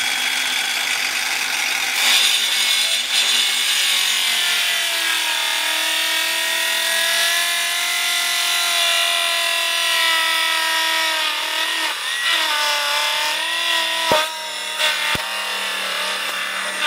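A hand saw cuts through the dense, pot-bound root mass of a bonsai tree. It makes a continuous grinding, rasping sound close to the listener that runs for the whole stretch, with a few sharper catches near the end.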